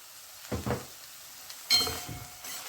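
Sweet corn sautéing in butter with black salt in a home kitchen pan, heard as soft bursts of sizzling and stirring scrapes, a couple of short clusters then a louder, longer sizzle near the end, alone without talk.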